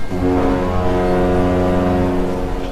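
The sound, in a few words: long ship horn blast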